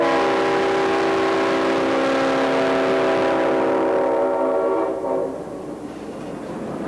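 A southbound CSX diesel freight train led by five locomotives rolls past nearby with a loud, steady engine roar and sustained rumble that gradually eases off as it moves on.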